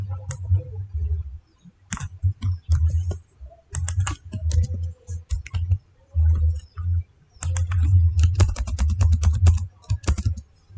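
Close, crisp keystrokes on a computer keyboard come in bursts of rapid typing and separate key presses, with short quiet gaps between clusters and no voice over them.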